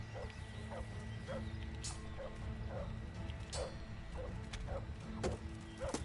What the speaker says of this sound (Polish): Piesek.